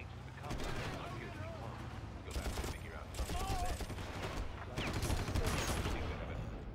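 Rapid bursts of automatic gunfire in the shooter game Far Cry, dense crackling volleys in several waves over a constant low rumble, with a voice talking underneath.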